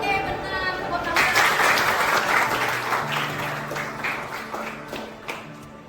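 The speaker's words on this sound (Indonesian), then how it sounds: "Tepuk tangan." A classroom of students bursts into applause, many hands clapping together in a dense, fairly near wash that gradually thins out, with voices faintly underneath.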